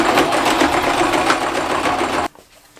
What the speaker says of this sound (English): I'm going to do a straight stitch here and a straight stitch here, locking all that in place